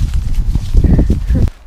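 A horse walking along a forest trail at Tenango de Doria, hooves clip-clopping in an uneven rhythm close by, mixed with rustling and speech-like voice sounds, ending abruptly.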